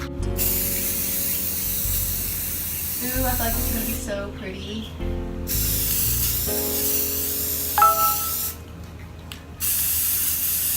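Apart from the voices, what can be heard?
spray paint can spraying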